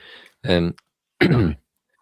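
A person clears their throat and coughs twice in two short, close bursts, with a brief pause between them.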